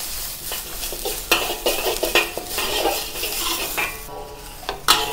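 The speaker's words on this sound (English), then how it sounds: "chopped ginger, chopped garlic, and some dry chili if you wish. Stir fry until aromatic." Chopped ginger, garlic and dry chili stir-fried in a pan for Szechuan eggplant, a steady sizzle broken by repeated sharp clinks and scrapes of a utensil against the pan, close and fairly loud, with no talking.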